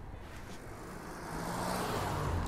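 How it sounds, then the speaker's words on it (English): A car approaches and passes along a street outdoors, its steady low road rumble swelling louder toward the end, with no voices over it. "Oh, car coming."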